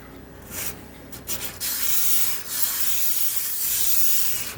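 Steady abrasive rasping of wood sandpaper scraped back and forth over a hard metal surface on a model ship, close up, in continuous strokes with brief pauses.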